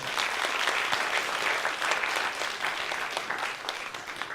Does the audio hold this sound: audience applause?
yes